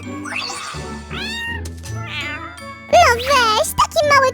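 An animated kitten gives a string of high, sliding meows mixed with jingling chimes. Each cry is short and close, and cartoon voices chatter between and around them.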